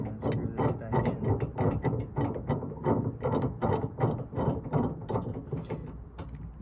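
A bolt is screwed back into a Smittybilt receiver hitch D-ring shackle, a rapid, even train of close metallic clicks and ratcheting turns with no speech.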